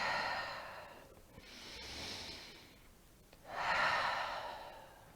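Slow, deep breathing during a gentle yin yoga flow: two long, audible breaths in and out, close and soft, with no talk.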